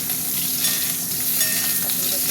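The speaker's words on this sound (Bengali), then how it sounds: "পটলটা একটু ভালো করে ভেজে নিই।" Pointed gourd frying in hot oil in a kadai while being stirred, a steady close sizzle with scraping stirring sounds on top throughout and no voices.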